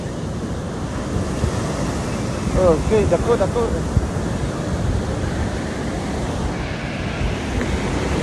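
Surf washing onto a family beach, a steady broad wash of waves with some wind noise on the microphone, running under a child's and adults' voices talking throughout.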